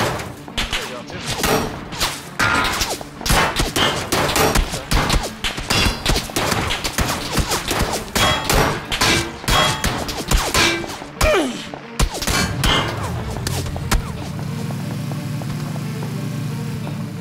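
Gunfire in PUBG comes in dense, rapid bursts of shots and cracking impacts for most of the stretch. The shooting stops near the end and leaves a low, steady hum.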